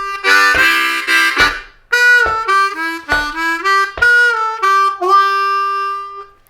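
A chugging blues harmonica ending lick played solo: a series of loud, reedy chords and bent single notes in uneven bursts, slowing toward the end and finishing on a sustained tone.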